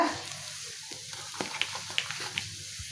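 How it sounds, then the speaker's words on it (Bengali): Eggs frying in a little oil alongside onion and carrot, a soft, close crackling sizzle with scattered sharp pops and light stirring clicks, no voices. "আমি তেল দিছি অল্প করেই প্রথমে একটা ডিম দিছি পরে আবার আরেকটা ডিম দিলাম"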